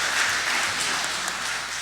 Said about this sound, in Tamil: அவருக்கு பலத்த கைத்தட்டல் வழங்குமாறு அன்போடு கேட்டுக்கொள்கிறேன்.